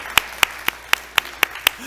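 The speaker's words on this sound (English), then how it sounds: "Let's give a round of applause to all the staff making all this happen and the volunteers" A single person claps at a steady slow pace at a storytelling night, seven sharp, close hand claps evenly spaced with faint room murmur between them.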